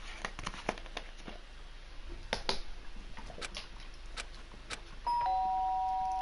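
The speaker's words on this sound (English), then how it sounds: "Someone's ringing the doorbell." Doorbell in the video game Danganronpa Trigger Happy Havoc, a clear electronic ding tone sounding near the end after a stretch of soft clicks and taps, with no talk.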